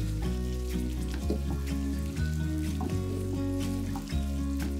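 Onions sizzle steadily in a pan as they are stirred for Pakistani biryani, a close, continuous frying hiss over a background of music.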